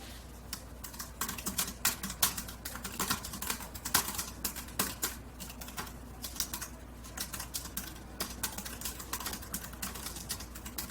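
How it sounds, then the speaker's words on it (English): Dense, continuous typing on a cheap, flexy Mac or iPad Bluetooth keyboard bought on eBay, rapid clicky keystrokes close up with no talking. "this little Mac or iPad Bluetooth keyboard that I got on eBay"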